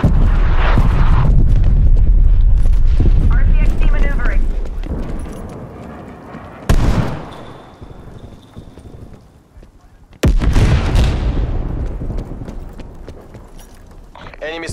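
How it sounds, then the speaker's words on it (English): Artillery strike explosions in Call of Duty Black Ops Cold War rumble as heavy, loud booms, with two sharp blasts after a long roaring barrage, mixed with battlefield noise and game voice callouts. "Artillery targeting detected. Net call. Incoming artillery."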